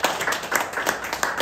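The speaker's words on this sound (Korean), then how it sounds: "위에서 인사할 때 박수로 환영해 주시기" Church-group audience clapping to welcome a new member, a fairly quick, bright run of handclaps with a few louder individual claps near the listener, no speech over it.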